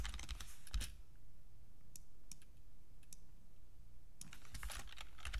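Fingers type on a computer keyboard in quick bursts of clicks at the start and end, with a sparse pause of isolated taps between, close and fairly quiet.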